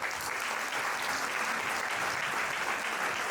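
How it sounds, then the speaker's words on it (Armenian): Warm, steady applause from an audience for school students at a 60th-anniversary event honoring David Sarapyan, dense and continuous throughout with no voices over it. "Եկ անգամ էլ ջերմ ծափահարը Ջոն Կիրակոսին անվան դպրոցի սաներ։"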